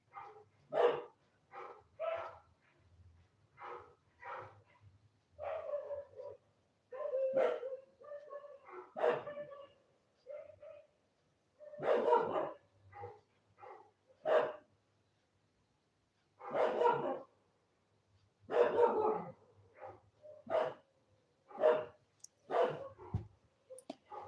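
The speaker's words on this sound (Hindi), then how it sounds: "हमारे यहाँ भौंकने लग गए बहुत ज़्यादा कुत्ते।" Many dogs bark outdoors at night, sharp repeated bursts and bouts scattered across the whole stretch, some close and loud, others softer, with no talk over them.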